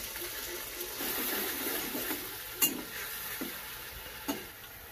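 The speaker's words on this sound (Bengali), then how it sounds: "দিচ্ছি খুব সামান্য একটু মশলার জল," A little spice water is poured into a pan of frying mustard and poppy seed paste, bringing a soft watery sizzle and hiss, a few spatula taps, and quiet stirring, all fairly faint with no voices.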